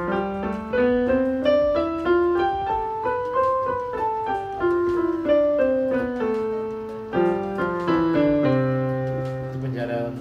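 Piano notes played in octaves with both hands, a steady sequence of struck tones rising and falling in a scale-like pattern, clear and close.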